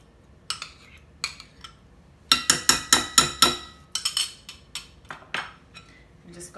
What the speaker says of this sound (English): I'm just going to stir this mayonnaise in with this sauce.